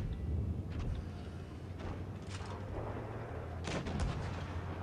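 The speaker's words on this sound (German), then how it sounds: "ich werde da von hinten beschossen" Tank cannon fire and shell impacts in the video game World of Tanks Blitz on the Port Bay map, several muffled booming shots over a low rumbling game background.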